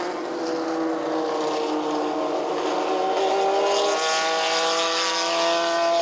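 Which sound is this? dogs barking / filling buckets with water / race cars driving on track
race cars driving on track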